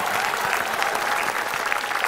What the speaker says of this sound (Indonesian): Boleh tepuk tangan, saya gak marah kok.